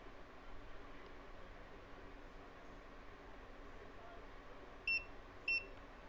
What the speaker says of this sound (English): you put the pen on the calibration until it beeps